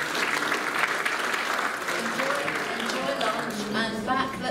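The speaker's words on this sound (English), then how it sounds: "a round of applause for our presenters" Conference audience at a road safety research forum applauding its presenters, a full, sustained round of clapping with some voices emerging as it tapers near the end.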